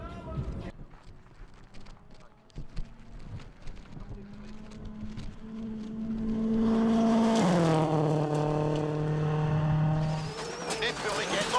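A rally car engine heard from inside the cabin on the fast opening special stage of the 2008 Jordan Rally, revving hard and rising in pitch through the gears. A co-driver's voice is heard over the loud, continuous engine drone.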